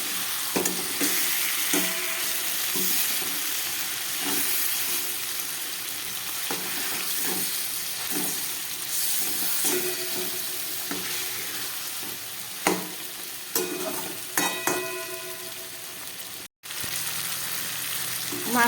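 Spice-marinated fish frying in oil, one side already browned, giving a steady close sizzle that runs throughout, with scattered clinks and scrapes of a utensil against the pan.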